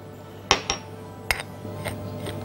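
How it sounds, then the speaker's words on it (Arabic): A spoon stirs sugar and cinnamon into sliced apples in a bowl. It makes a few sharp, close clinks against the bowl with short pauses between them, and no one talks. "هحط السكر والقرفة وأقلبهم مع بعض"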